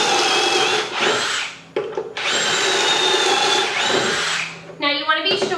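A power drill bores pocket holes into wood for a desk build in two long, loud whining bursts. The motor ramps up, holds steady, then winds down, and a short chattering rattle follows at the end.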